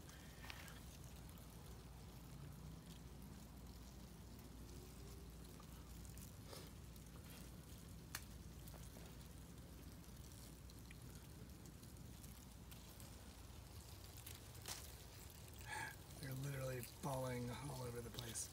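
A steady, dense pattering like running water or a light shower, made by 17-year cicada nymphs falling at night, fills the scene, with faint voices and some louder rustling near the end.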